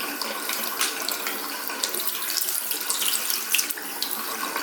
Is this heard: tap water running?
yes